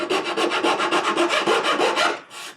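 Rapid rhythmic rasping of 120 grit sandpaper rubbed by hand along a wooden edge, about fifteen quick back-and-forth strokes, close and clear with no talking.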